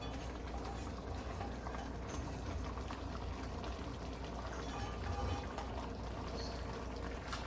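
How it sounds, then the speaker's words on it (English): Coconut rice water boils in a pot with a dense, steady bubbling hiss that stays even and close throughout. "Let it boil so that the water will reduce very well before I stir it."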